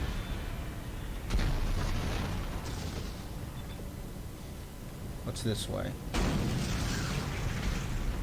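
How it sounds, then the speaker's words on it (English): Deep explosion booms in the video game Dead Space burst out twice, a few seconds apart, over a continuous rumbling backdrop, while a person speaks briefly. "Okay, I get to run towards explosions whether I want to or not."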